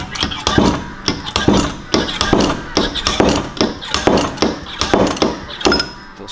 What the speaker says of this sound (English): Then you just, like a slide hammer,